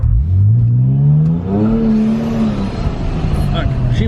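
A car engine running and revving hard, climbing in pitch through a loud rising rev, then settling into a rough idle, close and dominant, with a voice briefly audible.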